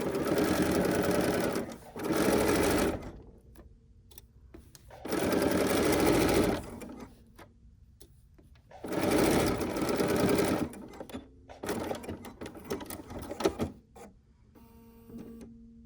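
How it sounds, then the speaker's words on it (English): Domestic sewing machine stitching fabric, close and loud in several bursts of rapid mechanical whirring, separated by short pauses and clicks. "Let's go and sew."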